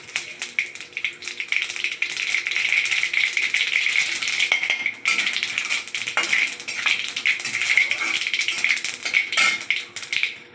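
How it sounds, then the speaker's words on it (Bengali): Dried red chillies and mustard seeds hit hot oil in a pan, setting off a continuous loud sizzle with scattered crackles and pops that briefly eases midway before picking up again. "দিচ্ছি চারটে শুকনো লঙ্কা সর্ষে দিয়ে দিচ্ছি"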